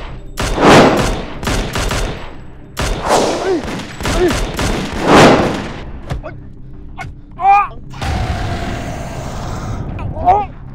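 Gunfire in a Thai TV drama scene: several loud, sharp bursts of shots ring out close by in quick groups, separated by short pauses, with later tonal effects and background sound.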